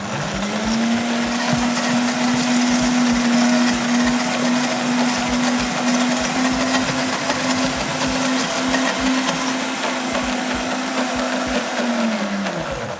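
A MOD Blend Pro blender whirs steadily while blending basil pesto, a loud continuous motor drone that starts, holds for about twelve seconds and winds down at the end, with no talk over it.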